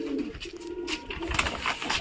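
Domestic pigeons with tied wings cooing indoors in a loft, soft low throaty coos repeating near the mic, overlaid with scattered rustling and faint clicks of birds moving about.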